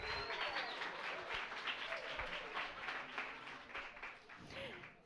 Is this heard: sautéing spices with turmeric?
no